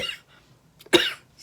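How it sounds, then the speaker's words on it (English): A single sharp cough bursts out close by after a brief throaty sound, followed by a softer breathy rustle. "I'm going to cough for a second."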